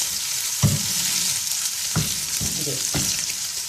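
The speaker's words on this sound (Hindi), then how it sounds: "अब इसको आराम से, तेल गरम होगा, चमचे की मदद से आराम से आप इसको तेल में उतारें" Peshawari chapli kabab fries in hot oil, with a loud, steady crackling sizzle and a few soft thumps and scrapes of a spoon. No speech.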